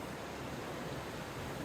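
Rushing floodwater of a flooded river running four to five feet deep, a steady broadband roar with no breaks, moderately loud and continuous.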